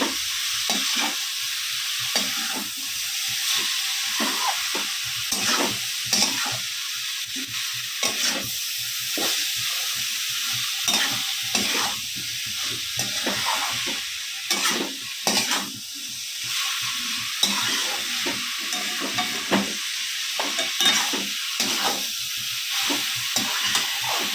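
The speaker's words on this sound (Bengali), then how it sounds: "বন্ধুরা আমি পাঁচ মিনিট এইভাবে কোপটা নাড়াচাড়া করে করলাম" Cabbage with potato and spices stirred and fried in a pan over high gas, with steady sizzling hiss and repeated scraping stirs throughout, close and alone with no talking.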